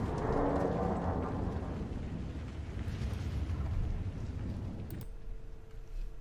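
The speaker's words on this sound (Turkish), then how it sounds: "Son jeneratör patladı." Last generator exploding in the Frostpunk video game, a loud deep rumbling blast that roars and slowly fades, then cuts off abruptly near the end, no talk over it.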